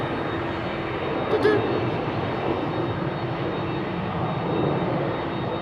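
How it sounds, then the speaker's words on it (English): A business jet takes off from runway 22 at Amsterdam Schiphol Airport, its engine a steady, broad roar throughout, with someone talking over it. "BizJet taking off. Runway 22."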